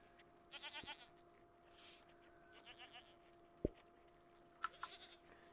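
Several short goat bleats from a video game come in separate bursts, fairly quiet and clear, with occasional clicks and a thin steady tone underneath.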